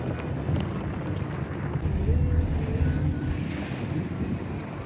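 Beas river water rushing along a mountain valley near the Atal Tunnel, a steady broadband roar mixed with wind buffeting the microphone, continuous and fairly close, with no talk.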